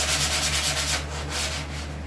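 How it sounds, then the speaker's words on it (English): Sanding block shaving down a scrap piece of foam, a close, steady rasping rub in quick repeated strokes. "shave it down with your sanding block"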